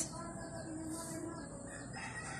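A rooster crows at a moderate distance over a steady background hum, the call drawn out and fairly clear.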